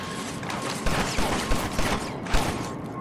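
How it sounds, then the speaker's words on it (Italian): Gunfire in the video game inFamous crackles as a rapid volley of bursts over a dense noisy background, several sharper shots standing out at irregular intervals. "Dove sta sparando?"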